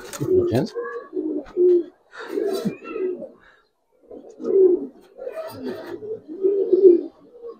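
Giribaz pigeons cooing up close in repeated throaty bursts with short pauses between them, a few higher chirps mixed in and some background voices.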